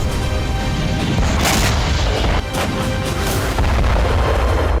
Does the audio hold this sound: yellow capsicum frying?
no